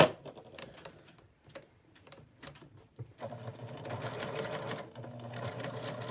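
A sewing machine stitches a seam on a fabric mask, first in short stop-start bursts of needle clatter, then in a longer steady whirring run, close and moderately loud.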